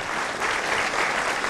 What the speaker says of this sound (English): I would love a huge round of applause, and we'll get a big clap going